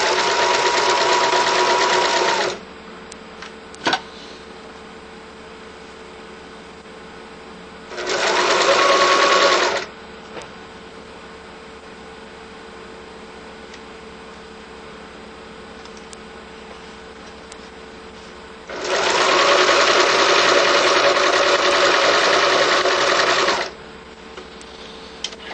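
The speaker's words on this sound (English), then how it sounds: "I sew a stitch line pretty much right down the middle of the floor." A sewing machine runs a basting stitch line down a fabric seam. It whirs loud and close in three separate runs, with quiet pauses between them.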